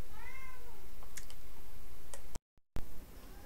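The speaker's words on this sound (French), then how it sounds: "le chat n'arrête pas de miauler" A house cat gives one clear, close meow at the start, followed by a few sharp clicking ticks. The sound drops out briefly, then faint room noise returns.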